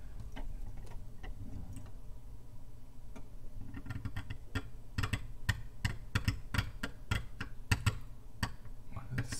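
Carving tool cutting away the background of a stone Chinese name seal, a run of sharp close scraping ticks and clicks that quicken into dense irregular bursts over a low hum.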